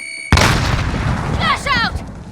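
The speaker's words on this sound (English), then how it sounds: "I'm throwing grenade!" A grenade in the Warzone video game goes off with a sudden loud boom that rumbles on briefly, followed by a person speaking over the fading blast.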